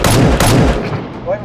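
Gunfire in the video game Lost Base Escape: two loud, broadband bursts of shots in quick succession, the second fading into a quieter tail.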